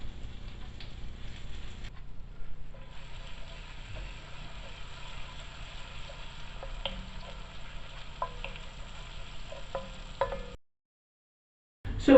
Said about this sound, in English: So with our butter and garlic has been cooking now for a few minutes